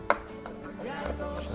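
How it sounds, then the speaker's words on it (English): A knife chops onion, garlic and jalapeno on a cutting board for birria tacos, with one sharp close knock followed by a few softer, quieter cuts. "chop it up"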